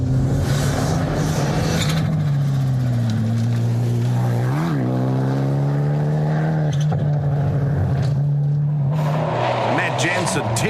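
A Mitsubishi Evo 2 open-class rally car at Rally Whangarei in New Zealand screams along a stage, engine revving loudly through gear changes with a brief dip and climb, while a commentator talks over it.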